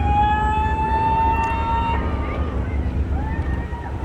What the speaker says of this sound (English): Oh, look at that antique fire engine.